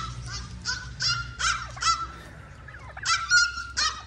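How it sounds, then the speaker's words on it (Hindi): Turkeys call close by on a farm, giving a rapid series of loud, repeated honking cries in uneven bursts with short gaps, over low background rumble. "ये वाले टर्की बर्ड देख रहे हैं आप"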